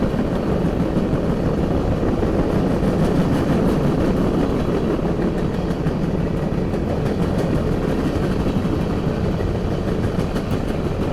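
A loud CSX train with four engines rumbles past close by on the Jesup A Line, a steady heavy roar with faint rhythmic clacking of wheels throughout.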